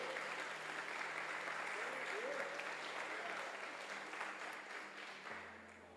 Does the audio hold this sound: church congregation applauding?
yes